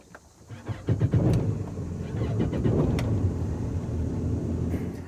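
A Yamaha 212XD boat engine cranks and catches, then settles into a steady, low rumbling idle that continues to the end.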